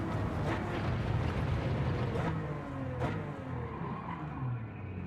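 A race car engine roars steadily in the driving game Gran Turismo 7, a dense, sustained mechanical howl with rising and falling revs and occasional tire squeal, heard alone without talk.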